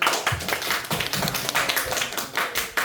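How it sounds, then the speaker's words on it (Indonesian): Several people clap their hands in quick, uneven bursts, close by, a brief round of applause with no talking. "Tepuk tangan, dapat 100 juga."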